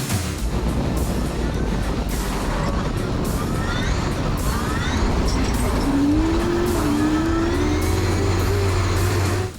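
Drift cars at the World Time Attack Challenge circuit event, tires squealing in long rising and falling whines over a continuous roar of engines, loud and sustained throughout.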